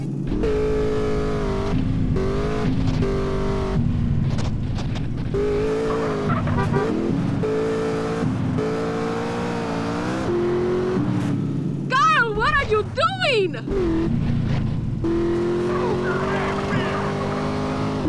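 A car races at speed in GTA San Andreas, its engine droning and revving continuously, with tire squeals and skids partway through, under voices talking in the game.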